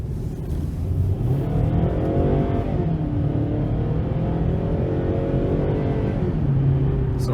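A 2017 Kia Sorento LX with a 2.4-liter four-cylinder engine accelerates from inside the cabin, the engine note climbing steadily through the gears at a loud, continuous level.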